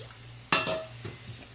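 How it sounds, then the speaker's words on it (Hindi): Water is poured into hot dal cooking in a pot: a sudden loud splashing hiss breaks in, then settles into a softer sizzle and bubbling, with no talking. "तो थोड़ा सा पानी डालते हैं हम।"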